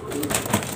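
Pigeons kept for sale in Lahore coo softly nearby, a few short throaty calls over quiet background noise.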